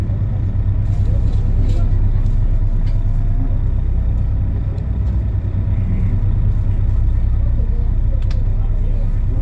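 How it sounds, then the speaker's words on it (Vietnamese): Steady loud engine drone inside a high-speed passenger boat running from Bach Dang pier toward Vung Tau, a continuous low rumble filling the cabin with faint clicks above it. "đi thì chỉ có tiếng động cơ của cái tàu này nó hơi ồn một xíu"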